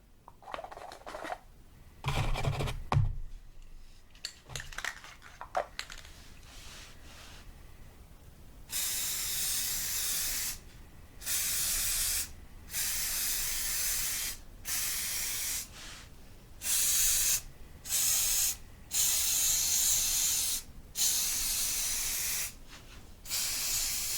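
Repeated bursts of spray paint can hiss, each lasting a second or two with short pauses between, close and steady, after some rattling and handling noises.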